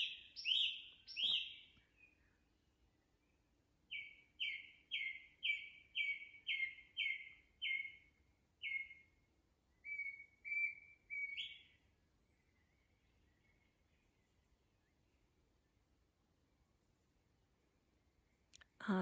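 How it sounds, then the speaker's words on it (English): Songbirds singing outdoors at the Botanic Gardens in Dundee, a quick run of chirps and then a steady series of about ten repeated clear notes, fairly close, against a quiet background with no talking. "Listen to the birdsong."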